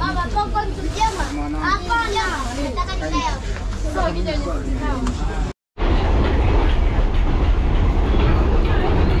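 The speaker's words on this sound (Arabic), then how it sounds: "هو الترام ديال تنزانيا" A train in Tanzania rumbles along its rails, a steady broadband roar with voices chattering over it inside a business-class car, then a brief cut before louder, denser running noise.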